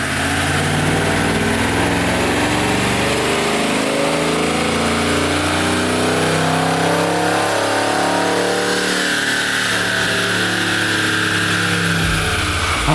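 A modified 5.7L Hemi V8 with new intake, headers and camshaft roars continuously on a chassis dyno, climbing steadily through the revs at loud, close range for about thirteen seconds.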